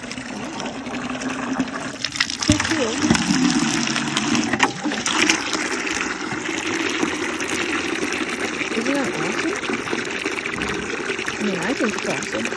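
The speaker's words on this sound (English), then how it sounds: "Just put some water under it and it fills it with water?" Water running into a container beneath a sled-mounted water tank on a milk cow farm in deep winter cold, a steady pouring wash throughout with people talking over it.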